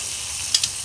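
Chicken legs on a wood-fired Weber grill give off a steady, close sizzling hiss, broken by two brief louder crackles near the end.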